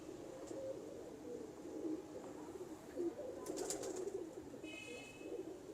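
An old breeding pigeon, around seven or eight years of age, gives soft, low cooing calls. The coos repeat faintly against a quiet background, with a few brief higher chirps partway through.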